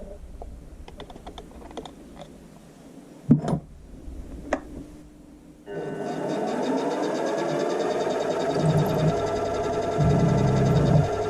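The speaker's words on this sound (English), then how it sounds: "Actually, I'll put a" Chamfer being machined into a metal centre stand pivot for a Honda CB400 Four restoration: a steady, continuous metal-cutting whir with a grinding edge starts partway through and runs to the end, preceded by a few light clicks and taps.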